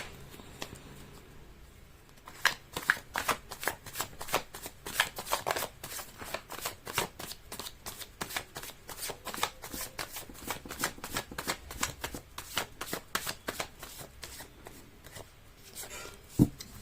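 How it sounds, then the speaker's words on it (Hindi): A deck of tarot cards is shuffled by hand in a fast, even run of crisp riffling slaps that continues for over ten seconds, close and fairly quiet, with no talking. "कार्ड की शफलिंग।"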